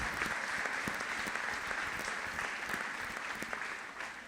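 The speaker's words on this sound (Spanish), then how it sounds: "El aplauso fuerte a Mamá María, nuestra Madre y Señora, Reina de las vocaciones." Strong, continuous applause from a congregation at a missionary vocation anniversary celebration, honoring the Virgin Mary; dense clapping fills the whole clip at a steady level, with a few sharper claps standing out.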